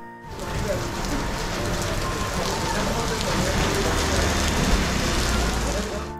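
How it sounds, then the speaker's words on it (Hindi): Heavy rain with hail pounds down in a narrow lane of an old Lahore neighborhood, a dense, steady hiss and patter close by throughout. "बारिश तेज हो गई और गली में ओले पड़ने लगे"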